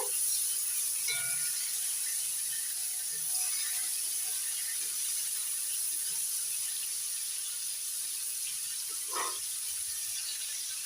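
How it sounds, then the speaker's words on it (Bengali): Prawns fry in hot oil with a continuous broad hiss and crackle, steady and close, with a few faint knocks and shuffles. "তেল গরম হয়ে গেছে এবার মাছগুলো ভেজে নিচ্ছি মাছগুলো হালকা করে ভেজে নেব"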